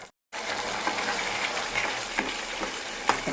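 A pan of Tamil-style cauliflower gravy with cashews boils and sizzles steadily, a dense bubbling crackle after a brief silent gap at the start, with occasional louder pops.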